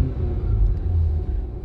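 A salvage-rebuilt Volkswagen Golf R20 engine runs with a steady, close, deep rumble throughout, the car having recently had an O2 sensor replaced to clear its engine light.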